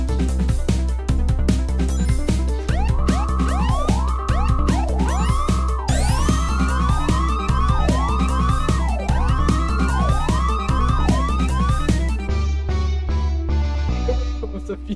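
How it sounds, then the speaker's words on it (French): A wailing police siren rises and falls repeatedly over a loud, busy electronic music track with a steady beat, then the music thins out near the end. "T'as des bruits de flics et tout, tu sais pas pourquoi"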